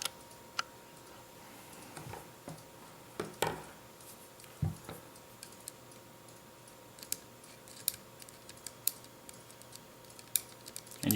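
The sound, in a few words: anti-reversal latch clicking as the gear is spun by hand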